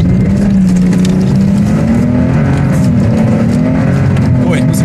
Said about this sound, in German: ich fahre jetzt einfach Vollgas und bremse ihn mit der Bremse.